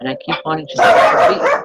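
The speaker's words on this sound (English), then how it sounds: "sorry about the dogs" Dogs bark in the background during the latter half, loud and repeated under a woman's ongoing speech.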